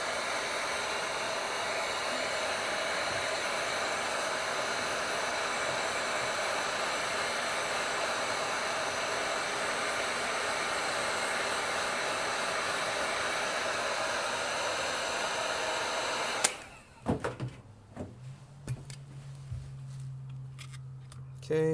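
Heat gun warming an iPad 9th Gen to free the home button, a loud steady blowing hiss for about sixteen seconds that cuts off abruptly, followed by quieter handling sounds and a faint hum.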